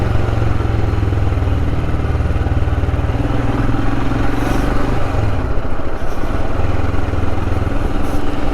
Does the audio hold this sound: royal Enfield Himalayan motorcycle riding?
yes